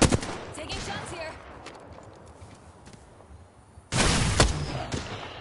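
Gunfire in Apex Legends: a sharp burst of shots opens, then quieter game ambience, followed by a loud sustained volley of rapid fire near the end.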